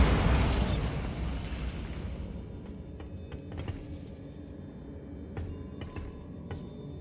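A Bombarda spell explosion in Hogwarts Legacy bursts with a loud boom at the start and decays into rumbling debris, followed by several sharp scattered pops and cracks that grow fainter.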